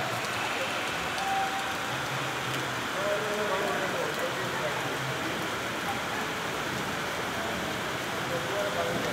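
Steady rain falls continuously, a dense hiss of drops with a faint low rumble underneath and no pauses.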